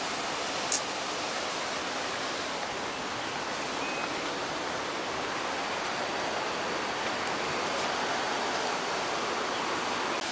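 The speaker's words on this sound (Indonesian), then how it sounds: "Itu dia air terjunnya." Waterfall at Pletuk, Ponorogo, giving a loud, steady rushing roar of falling water that stays constant throughout, with no talk.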